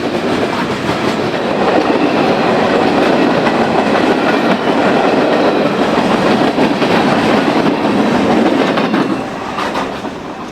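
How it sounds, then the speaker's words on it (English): Norfolk Southern freight 30Q, a very heavy train out of Calumet Yard, roars through Pine Junction with loud, continuous wheel and car rumble and clickety-clack, steady and close throughout, easing slightly near the end. "NS 30Q from Calumet Yard makes its presence known as they tear through Pine with a very heavy train this afternoon"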